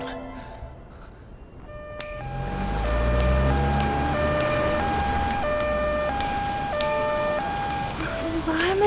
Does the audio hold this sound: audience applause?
no